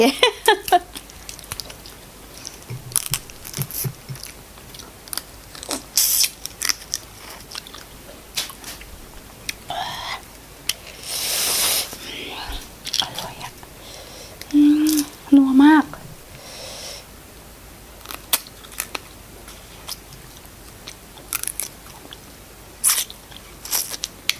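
Steamed blue crab legs with seafood dipping sauce being bitten, cracked and sucked, giving close, crunchy bites and wet slurps in irregular bursts, with a voice talking between them.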